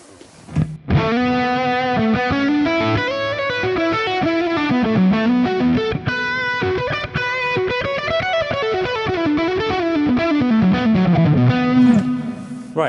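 An ambient guitar swell tone from a Fractal Axe FX/FM3 processor, soft high end rolled off, sustains in long gliding notes with chorus-like shimmer and distortion, blooming and fading continuously for the whole stretch, alone without voices.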